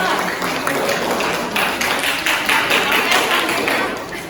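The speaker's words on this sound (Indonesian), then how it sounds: "Beri tepuk tangan untuk kelompok 2." A classroom audience applauds a student group after their peer-teaching presentation at a university teacher-training course, steady clapping across the whole stretch, fairly close and dense with no clear pauses.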